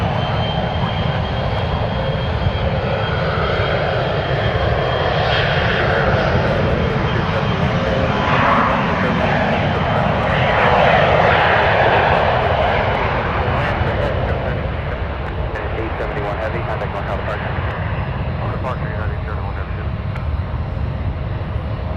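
Airliner engines roar steadily on a runway at San Francisco airport, a loud, broad rumble swelling and easing, with radio voices talking over it.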